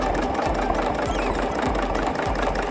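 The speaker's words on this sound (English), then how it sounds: "we're just going to stitch right around the edge of this" A sewing machine stitches around the edge of fabric with a steady mechanical whir and rapid repetitive thumping, loud and continuous throughout with no pauses.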